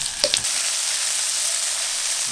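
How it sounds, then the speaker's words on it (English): Chicken pieces and broccoli fry in hot oil in a steady, loud sizzle, with a couple of sharp crackles and clatters near the start. "We're just frying it up in some oil with some broccoli."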